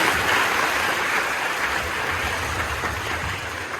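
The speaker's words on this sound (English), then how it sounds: "I request all of you to please give a huge round of applause" Sustained applause from an audience, a broad wash of clapping that stays fairly even and slowly eases off toward the end.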